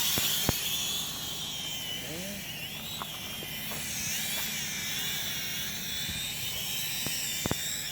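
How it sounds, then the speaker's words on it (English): Small XK X300W quadcopter drone with its motors armed and throttling up outdoors, a steady high-pitched whine of spinning rotors holding throughout, with a few brief clicks and faint background voices. "we arm the motors and throttle up."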